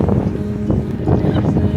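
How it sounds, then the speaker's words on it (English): Strong wind gusting across the microphone on a hiking trail at Yosemite, a steady low roar and buffeting that fills the short stretch at close range. "It's so windy."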